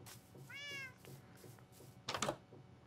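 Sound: cat meowing in the video game Minecraft

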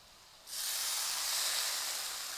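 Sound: hot ghee tadka sizzling when poured on carrot halwa

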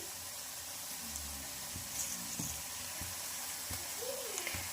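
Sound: garlic and cumin frying in a pan

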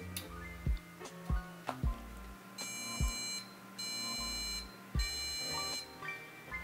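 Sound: computer motherboard beeping three times

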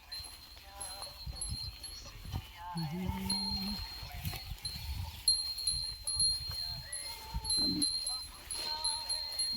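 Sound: Khillar bull with cattle bells

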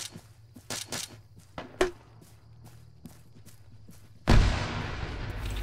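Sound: gunfire in the video game Arma 3

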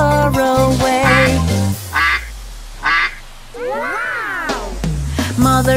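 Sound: duck quacking

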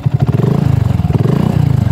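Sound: BSA Goldstar motorcycle exhaust

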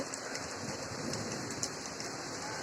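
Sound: heavy rain

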